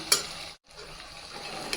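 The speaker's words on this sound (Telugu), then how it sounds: "ఇది కలుపుకొని కొంచెం మగ్గనివ్వాలి మసాలాని" A spoon stirs a spiced curry in a pot after almond and cashew powder goes in, giving a soft scraping, sizzling churn. One sharper clink comes near the start, then a brief gap, then continued low stirring with another light tap at the end.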